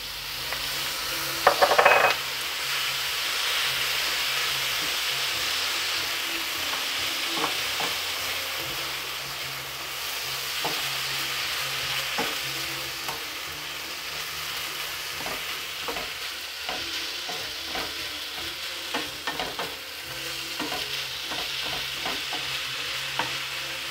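Rice with lemon juice sizzles steadily in a hot pan for fluffy lemon and peanut rice, with a constant frying hiss and intermittent scraping and clinking as a utensil stirs it. There is no talking.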